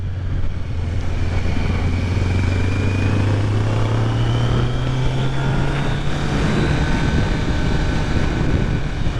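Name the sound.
Kawasaki Z900 motorcycle engine, shifting to second gear at a corner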